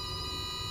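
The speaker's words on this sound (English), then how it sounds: "if the collective is up and the rotor is low RPM, you get that beep" A steady, continuous warning tone sounds inside an H125 helicopter in a VR flight simulator, warning of low rotor RPM with the collective raised. It holds level and unbroken, with no talk.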